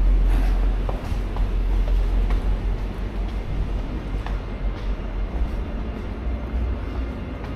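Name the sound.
train passing near station in Sundbyberg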